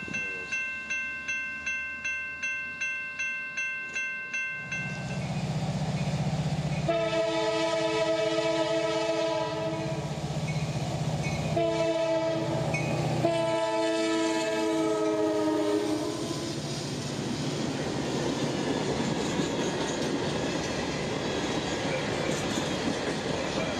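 A CSX freight train on the Carters Sub in central Florida rumbles past loudly with its multi-tone horn blaring in several long blasts, trailing into steady rolling wheel noise, with no talking.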